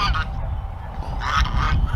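Geese honk outdoors in short nasal bursts, a cluster at the start and another louder run near the end, fairly close with rustling background in between and no talking.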